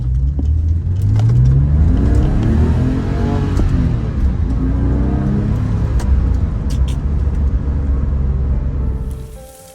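Porsche 911 (997), recently repaired for an ABS/PSM fault, driving on a road with a close, loud engine rumble that climbs in pitch through acceleration and then fades out near the end; no talking.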